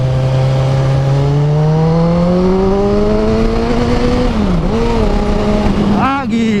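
A 2013 Kawasaki Z1000 motorcycle accelerates hard, its engine note climbing steadily through the gears with a brief dip and shift near the end, loud and close, while a rider talks over it.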